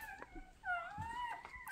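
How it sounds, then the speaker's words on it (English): Young puppies from a litter whimper and whine in thin, rising and wavering cries, close and quiet, with a few soft rustles and no talking. "I'll take you over and I'll show you the puppies that Nirvana has."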